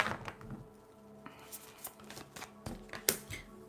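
Tarot cards being shuffled by hand, giving a run of soft riffling and papery flicks with a few sharper snaps, close and fairly quiet.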